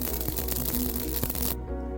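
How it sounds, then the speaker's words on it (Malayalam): Rice, urad dal and fenugreek dry-roast in a pan on the stove, giving off sparse, light crackles and small pops over a steady low hum, close and quiet. "ചെറുതായി ഇങ്ങനെ പൊട്ടുന്ന ശബ്ദം നമുക്ക് കേൾക്കാൻ പറ്റും."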